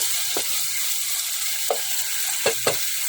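Santol dish ingredients sautéing with a pork bouillon cube in a pan, a steady low sizzle running throughout with a few soft stirring clicks near the cook.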